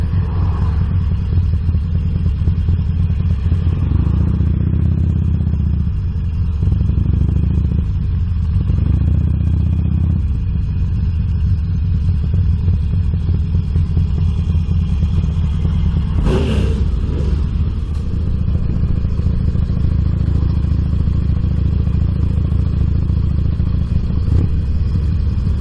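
A motorcycle being ridden on a warm day, its engine droning loud and steady throughout with rumbling wind noise, a few rises in revs, and a brief clattering burst midway.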